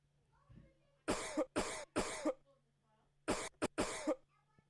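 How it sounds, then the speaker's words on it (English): A man coughs in two bursts, each a quick cluster of three harsh, loud coughs close to the microphone, separated by a short quiet pause. "They start coughing because they don't know what to say"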